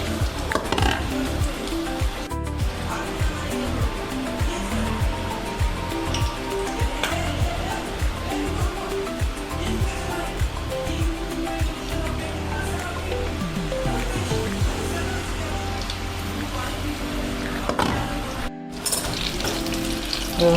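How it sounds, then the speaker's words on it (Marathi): Batter-coated green bell peppers stuffed with potato filling fry in hot oil, a steady, loud, dense sizzle that holds without a break, with a few clicks and clatters on top. "हळूच तेलामध्ये सोडून घेते."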